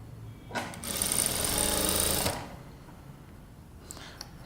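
A sewing machine stitches fabric for a princess cut kurta in one short, fast whirring run of about two seconds, close and fairly quiet, then stops.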